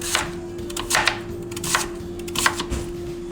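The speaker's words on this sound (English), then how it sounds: "now I'm going to divide my yam up" A knife cutting a peeled yam into pieces on a board, several separate chopping strokes in an uneven rhythm, close and clear over a faint steady hum.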